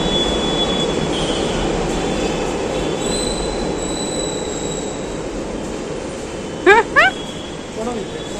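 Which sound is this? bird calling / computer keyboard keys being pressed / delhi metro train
delhi metro train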